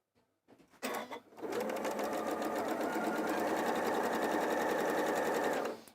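An Elna 780 sewing machine stitching fabric pieces in a chain, a steady fast mechanical whirr running continuously for several seconds after a few brief starts, close and fairly loud, with no talk.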